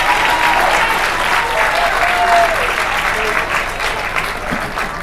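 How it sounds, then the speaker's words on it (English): A baseball crowd cheers and applauds, loud and sustained for several seconds, a dense wash of clapping that slowly thins toward the end. "Scrapper crowd kind of come to life."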